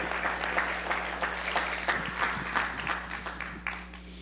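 An audience at a college speaking event applauds, producing a steady wash of clapping from a crowd that fades slightly toward the end, with no speech over it.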